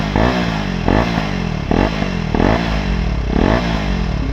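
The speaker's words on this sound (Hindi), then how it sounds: "ये हमारा लगा है एक्रापोविक R1M का एग्जॉस्ट।" A KTM Duke 250 motorcycle fitted with an Akrapovic R1M aftermarket exhaust and its catalytic converter removed is revved close up, with about five sharp throttle blips rising and falling over a steady, loud idle.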